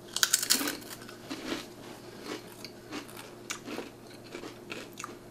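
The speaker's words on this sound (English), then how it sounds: "That is a crunchy pickle." Crunchy dill pickle flavored Lay's potato chips bitten and chewed up close, a burst of sharp crunches at the start followed by quieter, scattered chewing crunches, with no talking.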